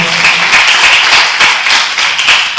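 A church congregation at a Sunday service claps together in a short, loud burst of dense, steady applause.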